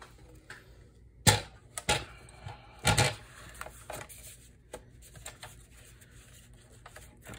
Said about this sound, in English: see if this is thin enough to go through my Tim Holtz media trimmer